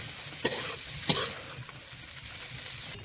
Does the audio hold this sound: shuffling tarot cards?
no